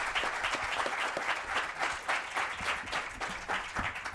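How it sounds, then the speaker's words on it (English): A forum audience claps steadily in warm, sustained applause after a fireside chat panel, dense and even throughout, moderately close with no voices on top. "Please join me in giving a warm round of applause."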